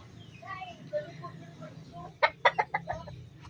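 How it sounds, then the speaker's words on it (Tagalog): Chickens in a backyard coop cluck softly at first, then a burst of several sharp, loud clucks comes in quick succession close by, over faint background noise. "So ayan mga manok ni daddy"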